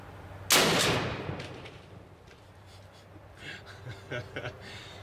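A sniper rifle with a 4-16 power scope fires a single sharp, loud shot at close range into bulletproof tempered safety glass, then quiet rustling and a few faint clicks and handling noises.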